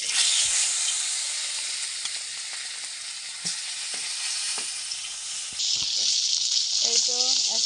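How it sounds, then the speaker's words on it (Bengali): Hilsa fish tails sizzle and crackle steadily in hot oil over a wood-fired stove, a loud, continuous frying hiss with brief pops and a short burst of speech near the end. "মাছের লেজ দুটো ভেজে নেব।"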